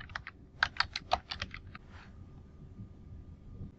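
Computer keyboard typing: a quick run of about a dozen crisp, close key clicks in an uneven rhythm, then quiet room tone.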